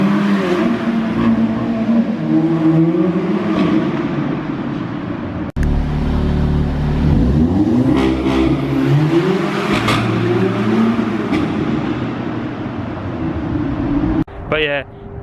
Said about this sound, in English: it should be a nice sounding for the exhaust, as we've not done it underground or in a tunnel yet